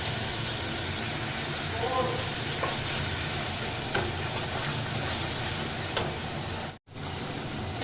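Bhetki fish, salted and rubbed with turmeric, fries with ginger-garlic paste in a pan. It gives a steady, even sizzle that continues throughout, with a few faint scrapes of stirring and a brief cut near the end.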